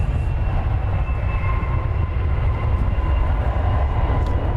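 An American Airlines Boeing 737-800 arrives at Dallas Fort Worth airport from Reno, a loud, continuous low engine roar that holds steady and close for the whole stretch, with no voices over it.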